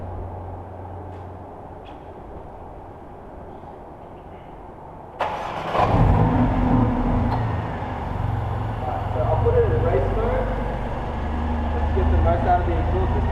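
A Mercedes A45 with a stage 1 tune starts with a sudden loud crank about five seconds in, then settles into a rumbling idle with some revving close by, after a stretch of quiet background.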